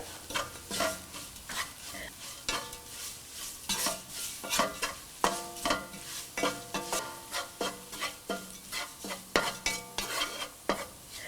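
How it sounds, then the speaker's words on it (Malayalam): Coriander, chili, garam masala and pepper powders sautéing in a pan for a prawn and tapioca biryani, with repeated rhythmic scraping stirs and a light sizzle throughout, close and clear with no talking. "നമ്മൾ എടുത്തു വച്ചിരിക്കുന്ന മല്ലിപ്പൊടി, മുളക് പൊടി, ഗരം മസാലപ്പൊടി, കുരുമുളക് പൊടി എന്നിവയിട്ട് വഴറ്റുക."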